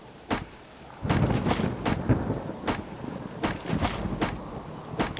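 Rain and thunder in the survival video game Subsistence: repeated sharp thunder cracks over a steady wash of rainfall, loud and close, with no talking.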